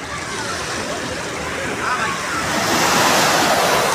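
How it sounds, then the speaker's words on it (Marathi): A loud, constant roar of waves breaking on a sandy Mumbai shore builds toward the end, with people talking faintly beneath the surf. "बघू शकता लाटा बघा समुद्राच्या"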